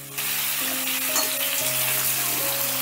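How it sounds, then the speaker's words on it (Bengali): Cut potatoes drop into hot oil with salt and turmeric, setting off a sudden loud sizzle that holds steady and close, with faint tonal hums under the frying. "তেলটা গরম হয়ে গেলেই দিয়ে দিচ্ছি কেটে রাখা আলুগুলো।"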